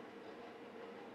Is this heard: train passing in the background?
yes